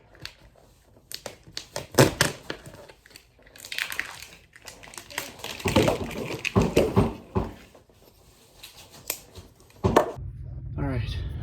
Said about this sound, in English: See if my very, very dull knife can cut it.